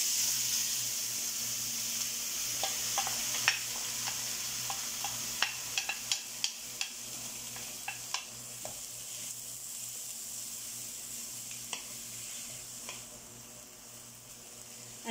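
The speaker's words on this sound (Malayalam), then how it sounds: "നമുക്ക് നന്നായിട്ട് ഇതിനെ ഒന്ന് നല്ലതായിട്ട് വഴറ്റി എടുക്കണം." Onions sautéing in hot oil for a fried sardine fish chukka, a constant soft sizzle and hiss with a series of light, rapid stirring taps and scrapes in the middle, quiet and close, no speech.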